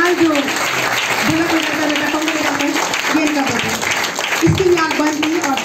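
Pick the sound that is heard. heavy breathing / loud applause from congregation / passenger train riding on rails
loud applause from congregation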